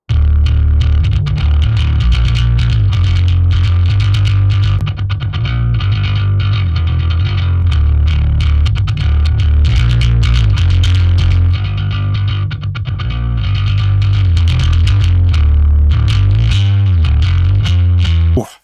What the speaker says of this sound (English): It's making that bass just sound really fat and gritty. And it's just adding this extra level of distortion.